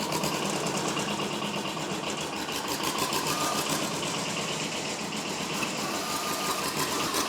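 A small 11 to 12 horsepower diesel engine, pouring black smoke, runs continuously with a steady, rattly, knocking chug, close and fairly loud without any voices.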